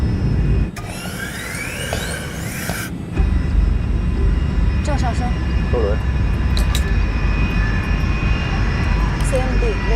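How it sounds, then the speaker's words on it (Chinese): Airliner jet engines spool toward takeoff thrust in a cockpit, a loud steady roar with a sharp jump in intensity partway through, while brief radio-like tones and clicks sound over it. "调定起飞推力。"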